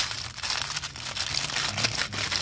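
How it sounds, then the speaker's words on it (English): Wax paper wrapped around a Boker Congress pocket knife in green jigged bone crinkles and crackles up close as it is unwrapped, in a dense run of papery rustles with sharper crackles between them. "wrapped up in wax paper."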